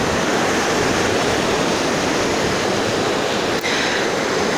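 Heavy surf pounds along the ocean shore in a steady, close roar of crashing water that holds at one level throughout, with no voices.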